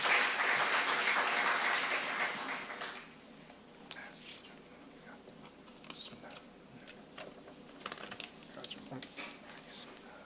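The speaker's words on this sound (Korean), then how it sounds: "여러분 뜨거운 박수로 환영해 주십시오." A seated audience at an academic conference opening gives a welcoming round of applause, dense at first, then fading after a few seconds into a quiet room with scattered small clicks and shuffles.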